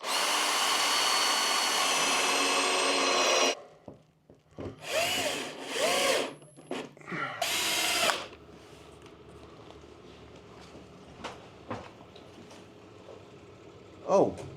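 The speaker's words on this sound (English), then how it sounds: "I use a drill with a a recess bit so that the screws are actually sitting in the wood" A drill with a recess bit drives screws into wooden ceiling cladding planks, a loud whirring burst followed by several shorter bursts of drilling, then quieter rustling and clicks.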